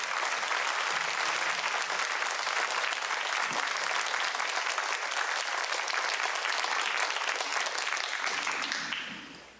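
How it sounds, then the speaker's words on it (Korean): A church congregation claps loudly to welcome the pastor at a Thanksgiving Sunday service, and the applause stays dense and continuous for nearly ten seconds before tapering off. "정말 큰 박수로 우리 목사님을 환영하도록 하겠습니다"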